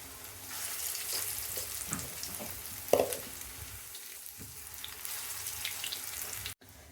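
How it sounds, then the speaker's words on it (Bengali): Chopped onions frying in a pan give a soft, steady sizzle, heard close with faint stirring scrapes, a brief clatter midway and a little running water in the background. "পেঁয়াজ ভাজা হয়ে গেছে। এবার উঠাই নিব, বেশি মচমচা করব না।"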